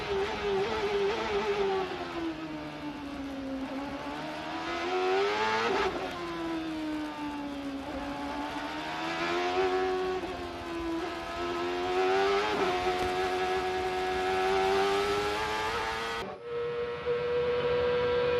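A CART open-wheel race car from 2001, heard from onboard: a loud, close engine wail that rises and falls steadily through upshifts and downshifts, running without pause and with no voices.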